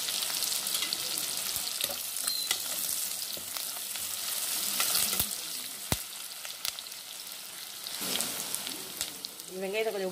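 Onions and curry leaves fry in a pan for mutton kurma, a steady close crackling sizzle with scattered spatters, a sharp utensil tap near the middle and brief faint voice-like sounds near the end.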